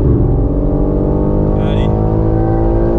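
Race car engine holding a steady, loud drone on a straight while chasing a Porsche GT3 RS, dense harmonic roar throughout with voices talking over it.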